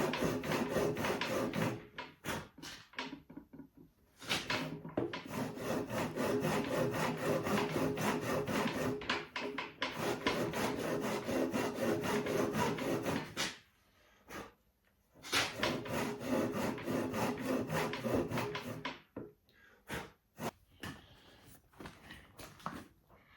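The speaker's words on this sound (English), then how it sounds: "With my handsaw I cut through half of the mortise from one corner to the opposite corner." A handsaw cutting diagonally through a wooden mortise, producing long runs of steady rasping back-and-forth strokes, close and loud, broken by short pauses between bursts.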